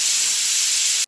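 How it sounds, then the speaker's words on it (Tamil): A pressure cooker whistle blasts out loud and close while goat boti curry cooks, one sustained hissing jet of steam that holds steady, then cuts off abruptly. "இப்போ 4 விசில் வந்துருச்சு."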